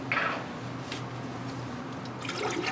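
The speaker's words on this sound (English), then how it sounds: "But what we can do now is just water this down." Water poured over a potted Miltonia orchid, a soft continuous trickle and splash close by, with slightly stronger bursts at the start and end.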